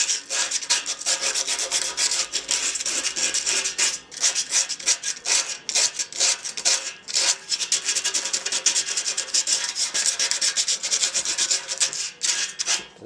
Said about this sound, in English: I've got a little piece of 60 grit sandpaper here, and I'm just going to scuff this area up a little bit